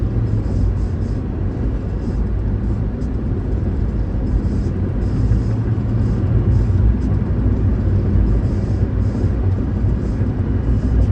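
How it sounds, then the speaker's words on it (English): Steady road traffic rumbles close by from inside a vehicle, a car trying to pass on the right in a lane that is ending, as an engine drone fills the whole stretch evenly. "There's a car trying to go by me on the right"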